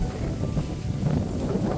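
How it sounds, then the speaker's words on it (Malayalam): Strong wind roars and buffets against the microphone in a steady low rumble atop a large rock above paddy fields at Kollengode, with no voices. "നല്ല കാറ്റുണ്ട്"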